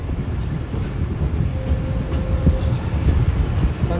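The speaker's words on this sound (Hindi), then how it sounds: "तो 1:38 पर हमारी ट्रेन अप्रोच बना रही है मुल्तान कैंट रेलवे स्टेशन पर" A Pakistan Railways train rolls slowly into Multan Cantt station at restricted yard speed. From on board comes a heavy, steady low rumble with faint rhythmic wheel knocks and a brief thin squeal midway.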